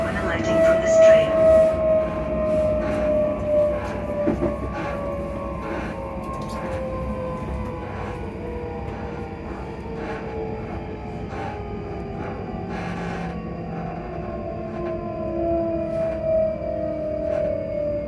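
Steady rumble of a moving train arriving at Livingston North on the Edinburgh Waverley line, with a drawn-out whining tone sliding slowly downward, wheels and motor hum continuous throughout, heard from inside.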